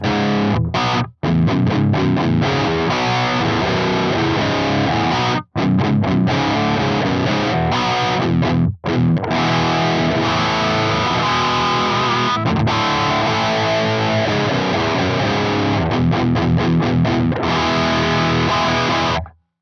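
A loud, heavily driven electric guitar amp, on its clean channel with the preamp fully maxed, roars through chugging chords and riffs almost nonstop, with a few brief silent breaks.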